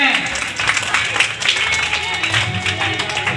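An audience applauds to welcome a guest at a Republic Day event, a rattling burst of many hands clapping, with a voice speaking over it.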